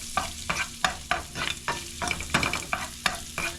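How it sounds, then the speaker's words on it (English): Dried wild onions cook in butter in a pan, giving a steady sizzle broken by a repeating scrape of stirring, roughly two strokes a second, close and moderately loud with no talk. "Now make sure you cook these onions well. Especially since they're dry, you kind of want the butter to soak up in them."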